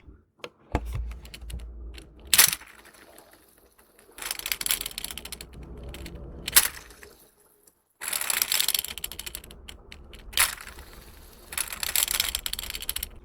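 Fidget spinner whirring in bursts and clicking to a halt when touched, several rattling spins separated by short silences, close and fairly soft.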